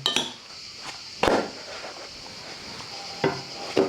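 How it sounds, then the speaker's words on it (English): Salad being tossed with olive oil, salt and apple cider vinegar in a bowl, giving a few close clinks and scrapes of utensils against dishware over a soft steady background hiss. "While the pancake cooks, I'm just gonna dress the salad."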